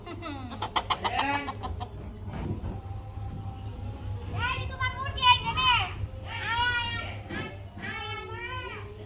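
A rooster at a village market makes several drawn-out calls close by, mixed with children's chatter and adults talking in the background.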